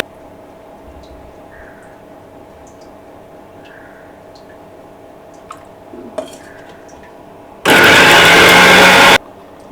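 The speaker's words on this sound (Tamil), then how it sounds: "இப்போ இதை பிளெண்ட் பண்ணிக்கிறோம்." Kitchen blender whirring on thick curd with oil for a grilled chicken marinade, a loud steady burst of about a second and a half near the end after quiet kitchen clatter and drips.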